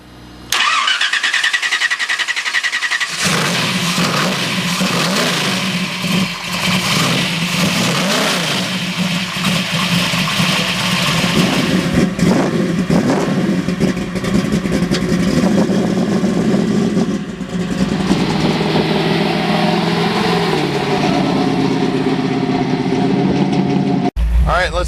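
A 1972 Chevy Camaro classic muscle car engine cranks and catches, then idles and revs repeatedly in loud, close roaring surges for a long stretch before settling and cutting off.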